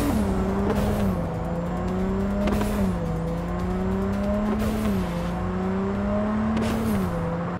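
A modded car's engine in Cyberpunk 2077 Phantom Liberty revs hard in repeated surges, each climbing to a roaring peak before dropping back, with a constant loud engine drone between the bursts.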